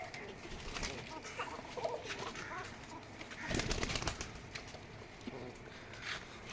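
Pigeons kept for sale coo softly amid a busy background of wing flutters, scratching and rustling, with bursts of flapping and shuffling around the loft.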